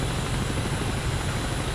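A helicopter in Garry's Mod, the XRW-2 craft, drones with a steady, dense rotor and engine roar that fills the whole moment, close and constant with no talking over it.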